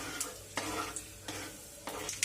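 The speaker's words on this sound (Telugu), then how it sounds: "ఇప్పుడు దీనిలోకి తాలింపు దినుసుల్ని యాడ్ చేద్దాం. ఇప్పుడు దీన్ని ఒకసారి ఫ్రై చేద్దాం." Tempering spices frying in hot oil in a pan, a steady sizzle broken by a few sharp stirring scrapes, heard up close with no voices.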